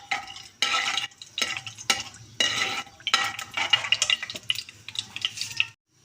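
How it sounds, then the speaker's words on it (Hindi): Garam masala is fried in hot oil, with bursts of sizzling broken by repeated stirring strokes and pauses, loud and close, with no talking. "गरम मसाला हमारा भुन गया"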